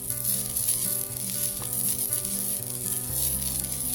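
Pitha dipped in oil sizzling steadily in a kadai, a loud, continuous crackling fry with a bright hissing layer that holds throughout.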